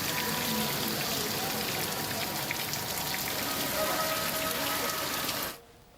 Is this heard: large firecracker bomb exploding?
no